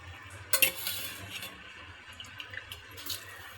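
Rice and spices for pulao are stirred in a pot, with a spoon clinking and scraping against the metal in a few uneven strokes over a soft, steady background.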